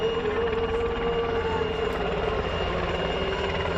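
C-130J transport aircraft coming in to land after a low-altitude tactical approach at an air show, with a loud, steady propeller-engine drone and a persistent tonal whine filling the whole stretch.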